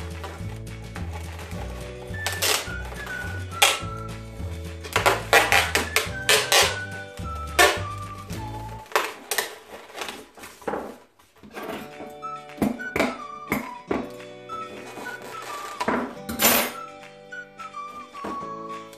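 Adhesive tape is unrolled and pressed around a plastic balloon stick, producing a series of sharp tearing rasps and crackles mixed with clicks and handling knocks, close up and uneven in rhythm.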